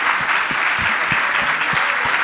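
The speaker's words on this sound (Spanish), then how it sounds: "hay pocos en los que el público continuamente esté interrumpiendo con sus maravillosos aplausos" An audience at a spoken-word and music event keeps up dense, continuous applause, a loud even wash of many hands with a few sharper claps standing out.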